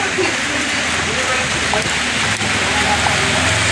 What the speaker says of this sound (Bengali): সাত সকালে বাচ্চাদের স্কুল যাওয়ার টাইমে বৃষ্টি পড়ছে।